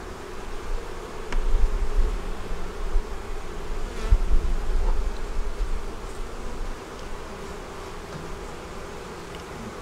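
Honeybees at an open double deep 8-frame hive with brood and stores, a steady close buzzing drone that holds for the full stretch, without voices.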